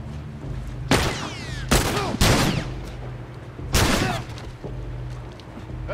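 Shotgun blasts boom in The Last of Us video game, four loud close shots spaced unevenly across a few seconds, each with a sharp crack and rumbling decay over a low background hum.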